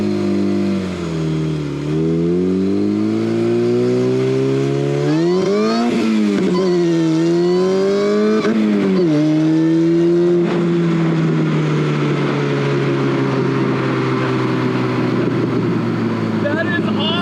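A street-legal go-kart with a Chevy Cobalt engine, about 220 horsepower, revs loud and close, its engine pitch climbing and dropping through repeated gear changes before settling into a steady drone.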